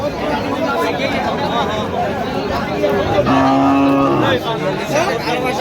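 Cattle at a busy livestock market in Raniganj low with a loud, drawn-out moo partway through, surrounded by constant crowd chatter and voices.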